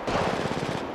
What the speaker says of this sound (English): I'm taking the shot.